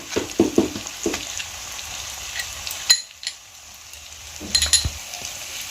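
Poppy seed and melon seed paste frying in a pan for potol chingri, with a low sizzle and a cluster of clinks and scrapes at the start, a brief hush, then more clattering stirs later, close by with no voices.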